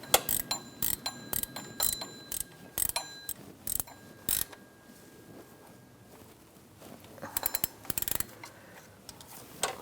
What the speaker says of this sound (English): Now I'm going to get my ratchet wrench. And we're going to tighten it the rest of the way.